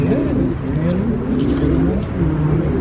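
Pigeons in a loft, steady low cooing and murmuring throughout, close and continuous, with faint rustling and a possible distant vehicle underneath.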